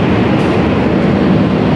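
Steady, loud rumble inside an economy-class carriage of the KA Cikuray train, running at up to 90 km/h, with continuous low wheel-and-track roar and no talk.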